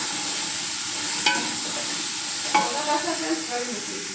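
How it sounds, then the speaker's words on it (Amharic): Chopped onions frying in oil alongside chicken in a pan, a constant bright sizzle with a couple of sharp clinks from stirring, close and without speech. "ሽንኩርቱና ዘይቱ ጋር ጠብሰዋለሁ አብሬ።"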